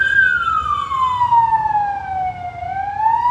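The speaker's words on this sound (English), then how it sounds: "that's an ambulance" A loud wailing ambulance siren sweeps slowly down in pitch and then starts rising again, steady and close over low traffic rumble.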